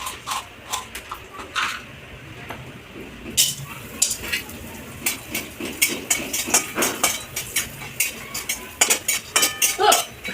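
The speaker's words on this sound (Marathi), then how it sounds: "हिंग छानपैकी भाजलेला आहे" Asafoetida being roasted in a pan for homemade masala, with a spatula clinking and scraping against the metal in quick irregular strokes that come faster toward the end, close and fairly loud.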